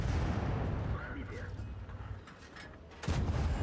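Tank cannon fire in a video game as a Matilda IV hits an enemy tank from behind: a heavy rumbling blast that slowly decays, then a second loud, sharp boom near the end.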